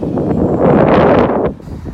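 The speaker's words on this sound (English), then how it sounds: "a bit windy today, like" Strong wind in Newcastle buffets the microphone in a loud rushing roar that swells and then drops off sharply near the end.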